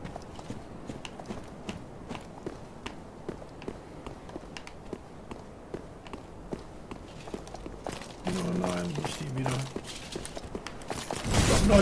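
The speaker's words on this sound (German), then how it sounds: "Ich höre Schritte." Footsteps in the video game Dark Souls III tap out a steady run of soft, close steps that continue throughout, with a brief burst of louder game sounds near the end.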